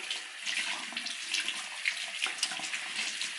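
A bathroom tap runs steadily while makeup brushes are rinsed under it, a continuous close hiss of flowing water with small splashy variations and no talk.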